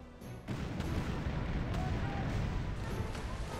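Cannon fire in the pirate video game Tempest sounds as a dense, continuous rumbling boom that rises sharply and holds loud for several seconds.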